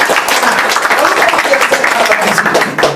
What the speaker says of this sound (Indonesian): Setuju berikan tepuk tangan yang meriah.